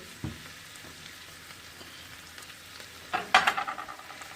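Frozen okra and peppers land in a hot frying pan. A soft, low sizzle builds into a sudden louder crackle of spits and pops near the end, with no talking.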